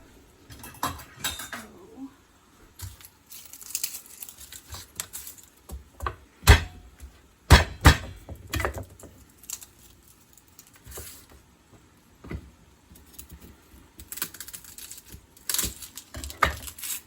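Garlic is chopped with a knife on a cutting board, giving irregular clusters of sharp, close knocks and taps with short pauses between bursts.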